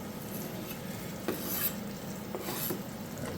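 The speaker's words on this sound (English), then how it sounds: "we're going to put our first wave of vegetables in the pan just to start" Vegetables tossed into a pan with pancetta for a mushroom and zucchini risotto, a soft sizzle under stirring and scraping with a few light utensil knocks, fairly quiet and close.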